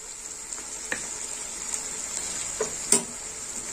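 Spice masala with green chili paste fries in a pan, giving a steady soft sizzle broken by several sharp stirring scrapes and clinks, the loudest near the end, close and with no talking.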